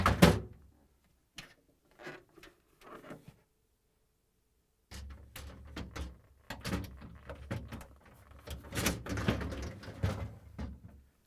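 A plastic vegetable drawer slides and knocks into place in a Samsung refrigerator, with a few short scrapes and thunks, a pause, then a run of clattering bumps and rattles.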